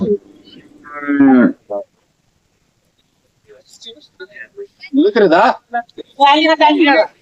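Cattle at a bull market in Raybag moo loudly and close, with several drawn-out calls, interrupted by a pause of near silence.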